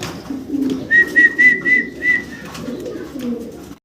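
Pigeons coo in a series of low, soft, rolling calls close by, with faint background noise.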